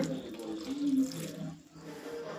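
Water is poured into a mixer grinder jar holding sambar masala and oil for grinding, a steady close splashing pour lasting a couple of seconds with no talk.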